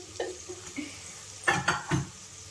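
A spoon stirs spice powders into rasam rice in a single pot, a few scraping, sloshing strokes clustered together near the end, soft and close with no voices.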